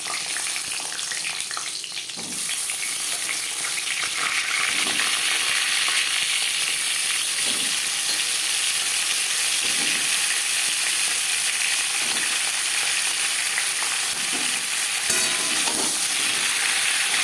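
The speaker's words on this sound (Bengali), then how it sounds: "জিরে ভেজে নেওয়ার পর দিয়ে দেবো পটল" Pointed gourd pieces fry in hot oil with cumin seeds for a vegetarian dish, giving a loud, steady sizzle that runs throughout with faint stirring scrapes and occasional soft clinks.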